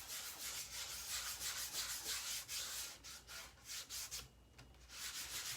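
Buffing wax across a painted wood or MDF surface for a Halloween craft: a steady, close rubbing and scuffing in repeated back-and-forth strokes, with brief pauses between passes.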